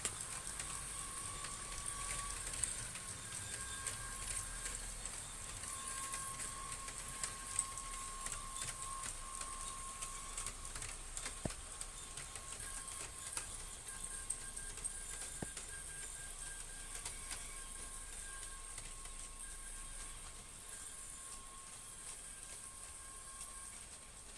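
A Hornby APT model train runs steadily with a faint continuous mechanical hum and a thin, high-pitched squeal throughout, quiet and unbroken, with no voices.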